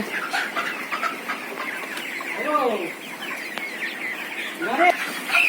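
Broiler chickens on a poultry farm cluck and squawk in a continuous busy chorus, with a few louder calls standing out nearby over the steady flock noise.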